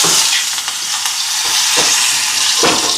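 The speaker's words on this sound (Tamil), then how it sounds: "செத்தல் மிளகாய், எல்லாம் நல்லா வதக்கி போட்டு" Urad and chana dal with curry leaves and dried red chillies sizzle and crackle in hot oil in a clay pot, a steady loud frying hiss broken by a few stirring scrapes, with no talking.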